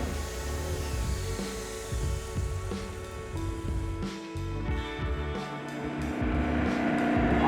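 A motorbike climbs the Gloucester hill climb course at speed, its engine a steady loud drone that swells and fades with shifts and wind rush, and no talk over it.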